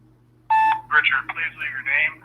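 A telephone dials a number to call someone back, giving a short burst of touch-tone beeps that is followed at once by a person talking.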